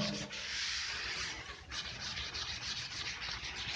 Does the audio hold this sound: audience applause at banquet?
no